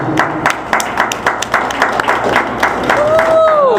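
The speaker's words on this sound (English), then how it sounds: "Let's give yourself a round of applause for me." Clapping from a group, steady and moderately loud, with a whistle-like tone sliding in near the end.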